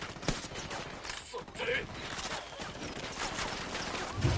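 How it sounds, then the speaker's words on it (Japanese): Distant gunfire in Ghost Recon Wildlands, a dense ongoing crackle of shots mixed with game ambience and movement noise, steady and moderately loud throughout. "なんか撃ってる。"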